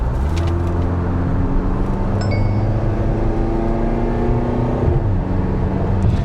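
A Mahindra XUV 7XO diesel SUV accelerates hard in Zoom drive mode, its loud engine note climbing steadily for several seconds before a shift drops the pitch and it pulls on again.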